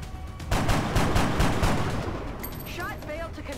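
Gunfire in the XCOM: Enemy Unknown video game, a rapid burst of loud close shots lasting about two seconds that trails off into ringing game effects, with no speech.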